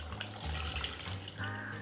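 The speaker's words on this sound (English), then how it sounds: "I'm gonna add in this batch, 2 cups of water" Two cups of water pour into a blender holding butternut squash soup ingredients, making a quiet, steady splashing stream with nothing else heard.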